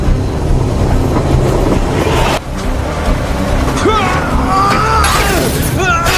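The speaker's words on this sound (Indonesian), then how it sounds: "Maya ada di dalam kereta yang sedang melaju" A moving train rumbles loud and steady with rattling carriages and high screeches from the rails, while a voice talks over it.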